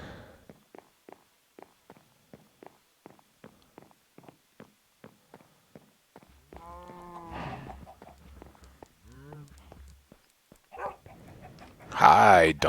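Dogs in Minecraft produce a long run of short, evenly spaced clicks like footsteps, followed by mooing cattle and other farm animal calls, with a louder burst of noise at the end.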